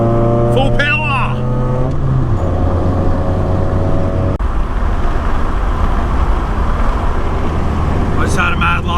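A hillclimb race car at Mount Panorama, Bathurst, accelerates at full power, its engine note rising through gears before settling into a loud, rough drone, with a voice shouting over it.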